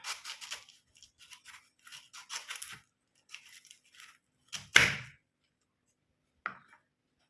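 A knife slices breadfruit into rounds in a quiet kitchen: short, crisp scraping and cutting strokes come in quick clusters, followed by a sharper single chop and one last brief cut.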